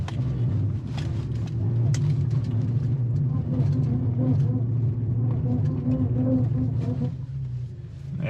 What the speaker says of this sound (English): It's just starting from here, and I'm gonna floor it.